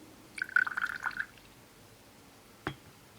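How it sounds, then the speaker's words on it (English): Tea poured into a cup gives a brief, faint trickling splash, followed by a single soft clink after a short pause, with no talk. "So I'm going to pour us a cup of tea"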